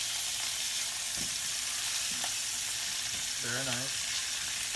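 Chicken pieces sizzle steadily in a frying pan, a constant bright crackle with a brief voice speaking near the end.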